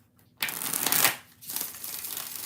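Tarot cards being shuffled close up: a quick riffling burst, a short pause, then another softer run of shuffling, with no talk.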